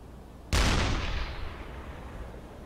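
Single heavy deck gun shot from a submarine in the UBoat game, a sharp loud boom that decays into a long rumbling tail over a few seconds, heard alone.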